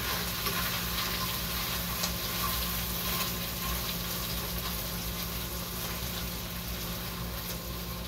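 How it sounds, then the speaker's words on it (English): Herbs fry in a pan, giving off a steady, dense sizzle that holds close and even throughout with no talking. "I was just frying on my herbs."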